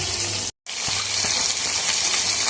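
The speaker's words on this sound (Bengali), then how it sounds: "এদিকে বাটা মাছ ভাজা বসিয়ে দিয়েছি" Bata fish sizzles steadily and loudly in hot oil, a constant crackling hiss with one brief cut.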